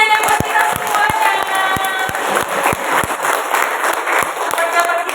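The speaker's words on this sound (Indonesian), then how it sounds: "Tepuk tangannya dan buat kita semuanya." An audience at a parenting seminar for a PAUD Aisyiyah preschool claps. The applause is close and fairly loud, with distinct individual claps, while a voice and some music-like tones carry on underneath.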